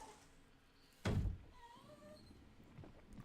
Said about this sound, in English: I got cats making weird noises.